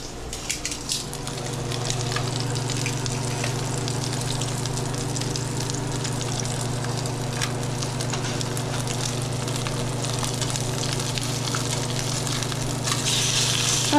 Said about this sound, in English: that's a really nice sear